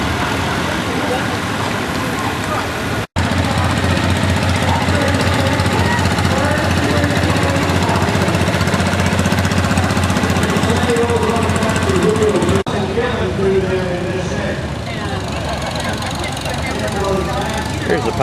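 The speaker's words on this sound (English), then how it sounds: "Here's the power grader" A power grader built from a Farmall M tractor runs close by, its engine a loud, continuous rough knocking clatter that holds steady throughout, briefly cutting out near the start, with voices faintly mixed in.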